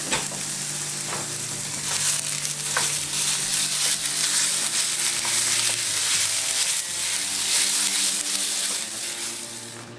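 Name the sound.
venison frying in a hot pan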